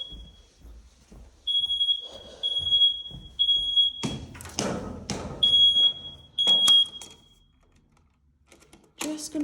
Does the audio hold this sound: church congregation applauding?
no